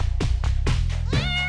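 A cat meows four times in quick succession, loud and close, the last call longer and more drawn out, with no talking.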